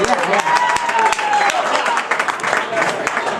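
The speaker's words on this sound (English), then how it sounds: "Another round of applause for Tim." An audience at a comedy show applauds Tim with a dense wash of clapping from a crowd, with voices talking over it throughout.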